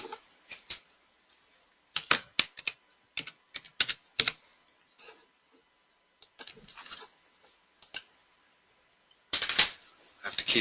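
Bursts of key clatter from a wireless computer keyboard, quick irregular clusters of taps with short pauses between them, close and clear with no voices.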